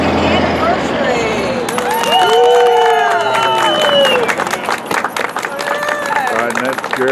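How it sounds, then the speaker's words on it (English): A crowd applauds and cheers at an outdoor ribbon cutting for a business's second anniversary, loud mixed clapping and whoops with excited voices and babble throughout. "we want to give Tech ER a big round of applause as they cut the ribbon to celebrate"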